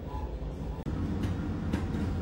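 A train on a scenic Austria–Italy route hums and rumbles steadily up close, with a brief dropout and faint airy swells.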